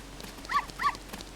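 A dog in The Legend of Zelda: Ocarina of Time gives two quick, clear barks in a row, close and moderately loud, with faint game ambience underneath.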